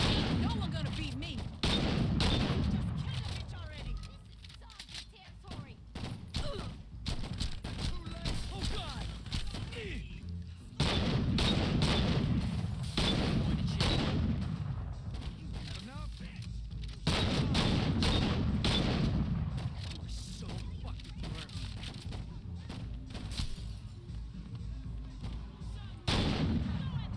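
Repeated bursts of gunfire and heavy booms from Saints Row 2 gameplay, loud sustained volleys with brief gaps between them, rumbling low explosions under rapid shots.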